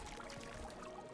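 Water from a strong water source in the beaver colony game Timberborn flows and pours steadily, a faint continuous wash with no other sounds over it.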